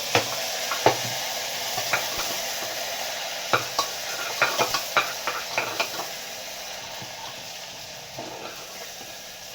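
Masala roasting in a pan for a palak mushroom dish sizzles softly and steadily, broken by a series of sharp scraping and tapping knocks from the stirring spoon against the pan.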